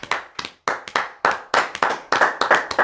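A church congregation clapping in unison during worship, sharp rhythmic hand claps in quick bursts with brief pauses, loud and close, no voices over them.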